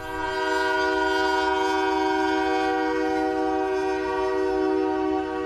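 A long train passes the Allen Road crossing in Woodhaven, its horn sounding a loud, sustained chord that holds for several seconds with the rumble of the rail cars beneath.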